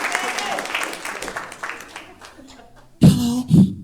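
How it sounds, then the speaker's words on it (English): A comedy club audience claps and cheers in short bursts, mixed with a voice speaking under the crowd noise and growing louder near the end. "Everybody give a round of applause for Peggy."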